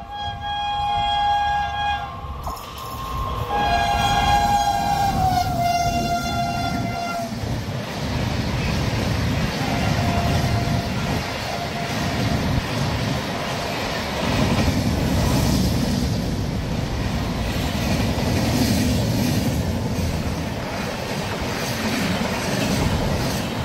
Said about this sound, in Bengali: চলে আসছে শালিমার থেকে হায়দ্রাবাদ ইস্ট কোস্ট এক্সপ্রেস।